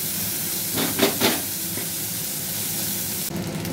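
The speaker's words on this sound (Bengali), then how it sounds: "এটার মধ্যে ফুলকপিটা ভাজা হোক।" Cauliflower frying in ghee for veg fried rice sizzles and hisses steadily up close, with a few brief stirring scrapes early on and a sharper hiss near the end.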